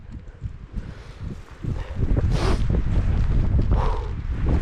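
Wind gusts across an open pasture where cows graze in November, rushing and buffeting the microphone in rising surges that grow louder and stay strong toward the end.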